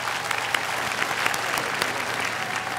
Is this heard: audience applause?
yes